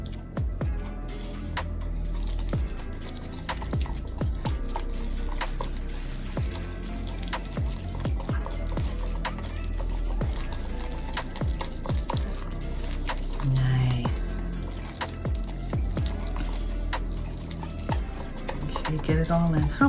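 A whisk stirs a conditioner and warm-water hair mask in a bowl, with steady wet swishing and light clicks against the sides under ongoing talk.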